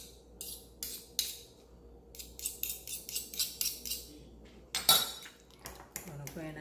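A fork working soft butter in a bowl for banana bread, a run of rhythmic scraping and clinking strokes against the bowl, close and fairly quiet, with one sharper knock near the middle.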